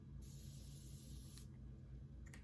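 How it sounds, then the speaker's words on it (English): A pump bottle of facial mist gives one steady spray hiss lasting over a second, followed by a couple of quick faint puffs, close and quiet with no talking. "I'm just gonna spray it now"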